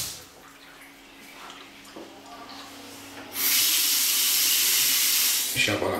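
Water running from a bathroom sink tap in an apartment, a strong steady hiss that starts abruptly partway through after quieter room noise and movement, then cuts off near the end.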